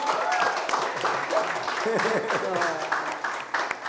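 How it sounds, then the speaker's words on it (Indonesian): A studio audience at an Indonesian talk show applauds, steady moderate clapping mixed with voices talking and cheering over it. "Tepuk tangan"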